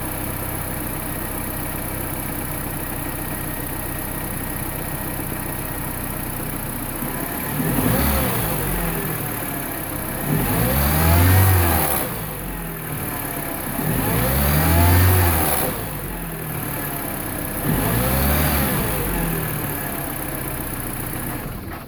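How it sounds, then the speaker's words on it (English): R56 non-S Mini Cooper engine with its stock intake silencer, idling steadily and then revved three times in separate swelling bursts that rise and fall back to idle, recorded close with no speech. "let me step on the gas pedal and see what the engine sounds like before and after"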